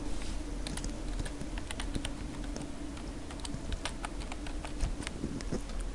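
Steady typing on a computer keyboard, a quiet run of light key clicks continuing without pause in an indoor room.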